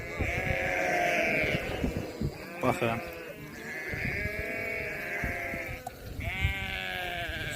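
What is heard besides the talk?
mountain goats bleating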